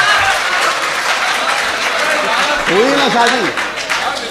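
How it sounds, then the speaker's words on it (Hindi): A crowd at a humorous Urdu poetry recital bursts into loud, sustained applause, dense clapping filling the room while voices cheer and call out over it. "जोरदार तालियों से इस्तकबाल किया जाए"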